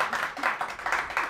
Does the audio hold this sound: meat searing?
no